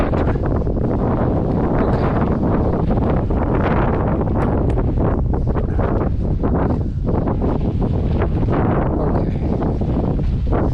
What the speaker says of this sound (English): wind is blowing hard. It's cold.